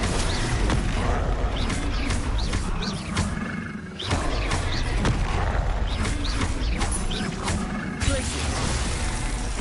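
Repeated Confringo explosive spell blasts in a Harry Potter video game, dense booming bursts layered over continuous loud battle noise, with a brief lull near the middle before the blasts resume.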